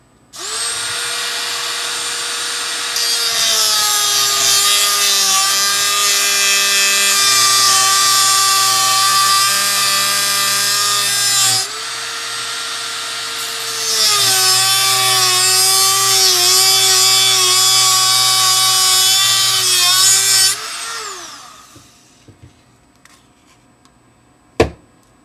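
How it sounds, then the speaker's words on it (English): A Dremel rotary tool cuts through 2-inch PVC pipe, a loud, steady high-pitched whine held for about twenty seconds with one brief dip partway through, then spinning down into quiet. "cut the PVC to the marking you made. For this, I'm going to be using a Dremel."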